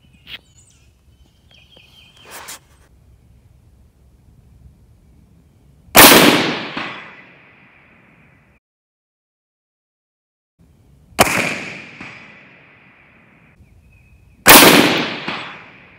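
6.5 Grendel rifle firing box ammo outdoors: three sharp, loud gunshots spaced several seconds apart, each with a long echoing tail across open ground, with faint birdsong and quiet clicks between.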